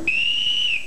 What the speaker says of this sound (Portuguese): Você leva um apito lá e acorda o camarada